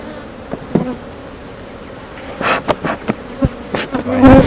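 Honeybees in an opened hive brood box give a loud, steady buzz up close, with brief knocks and bumps of hive parts around it.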